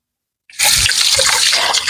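Tap water gushes steadily from a faucet during face washing with lukewarm water, starting abruptly after a brief silence and continuing loud and close as a constant splashing stream.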